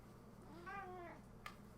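A house cat gives a single drawn-out meow with a rising then falling pitch, close and clear, followed by a short faint sound against quiet room tone.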